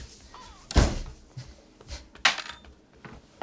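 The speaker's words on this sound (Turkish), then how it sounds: "Kapa kapıyı kapa." Door slammed shut in a Turkish comedy scene: one heavy sharp bang near the start, followed by a second knock and lighter thuds and rustling in a quiet room.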